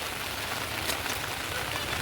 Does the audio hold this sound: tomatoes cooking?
no